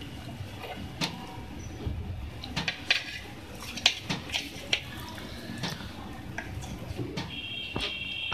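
A knife cutting a peeled tomato on a board, with scattered sharp taps and clicks spaced irregularly, close and moderately quiet over faint background hiss.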